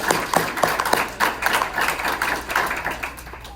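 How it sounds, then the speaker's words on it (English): A school board meeting audience gives a round of applause, with scattered, uneven claps from a modest number of people, individual hand strikes standing out close by. "let's give them one more round of applause"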